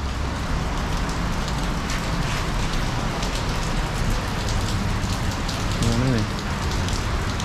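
Steady, dense rain pours onto surfaces in a town street in Pasir Mas, Kelantan, Malaysia, a constant close hiss with someone speaking briefly over it.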